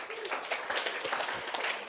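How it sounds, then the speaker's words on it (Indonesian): Church congregation claps together during a sermon, a dense, roomy burst of applause lasting a couple of seconds, moderately loud with some voices mixed in. "Tepuk tangan untuk Tuhan kita."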